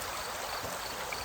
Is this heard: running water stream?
yes